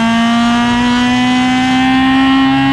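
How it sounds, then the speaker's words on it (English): A Honda S2000 with a straight-pipe exhaust running straight from the header, with no catalytic converter or muffler, holds a loud, steady high rev, its raspy buzzing note staying constant in pitch throughout. "There is nothing louder than this exhaust."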